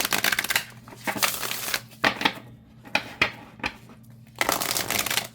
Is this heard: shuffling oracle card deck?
yes